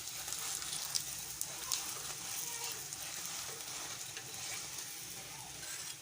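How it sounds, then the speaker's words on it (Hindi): A paratha fries in a generous pool of desi ghee in a pan, giving a steady, even crackling sizzle close by with faint pops and no talking. "यहाँ पर मैं इसे बहुत ही ज़्यादा घी में इसे जो पका रही हूँ पराठे को"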